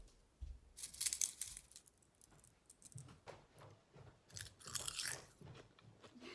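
Home-baked potato wedges being chewed up close, with repeated crisp crunches and bites coming in irregular bursts, loud and alone without any talk.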